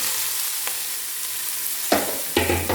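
Cabbage hisses in a hot pan at a steady, moderate sizzle, broken near the end by a few sharp scraping stirs.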